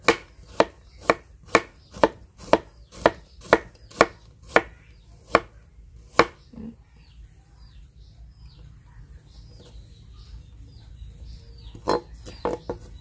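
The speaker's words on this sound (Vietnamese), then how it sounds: "bây giờ tiếp theo thì mình sẽ sắc cái phần tỏi này ra luôn các bạn" Garlic is minced finely with a knife on a board in a quick, even run of about a dozen sharp, close chops, followed by a quiet pause and a few more chops near the end.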